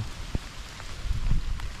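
Steady rain falls during a fishing trip, a continuous broadband patter with a few louder drops striking nearby, fairly loud and with no talking.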